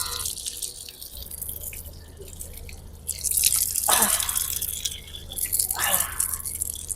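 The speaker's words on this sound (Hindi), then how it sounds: "इस तरीके से नल ओपन हो रहा है।" Water running from an opened tap at a well in Saudi Arabia, a steady hiss with two louder gushing surges and some dripping, heard close.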